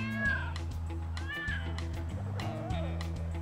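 A house cat meows several times, clear and fairly close, over steady background music.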